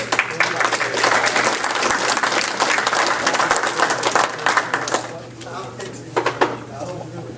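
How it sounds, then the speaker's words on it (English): Applause from an audience at a Lions club meeting honoring a member: dense, loud clapping sustained for about five seconds, then thinning into scattered claps as voices come in. "Big round of applause."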